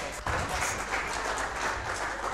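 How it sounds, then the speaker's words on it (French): An audience applauding at an award ceremony for the Mukendi Mbaye trophies in the DRC, a sustained roomful of clapping that swells in abruptly and stays loud and even throughout. "On applaudit bien fort."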